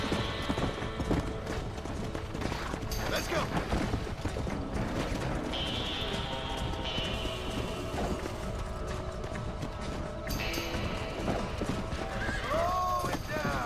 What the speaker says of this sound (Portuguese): esse cavalo tá doido, né? Tá loucão.